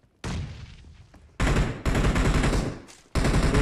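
Bursts of rapid automatic gunfire in the mobile battle royale game PUBG Mobile, loud close rattling volleys in three or four long strings with short gaps between them.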